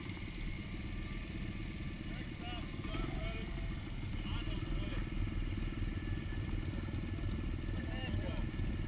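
A motorcycle engine idles at a scooter ride held by the Confederate Chapter of the AMCA, a steady low throbbing putter running throughout beneath nearby people talking.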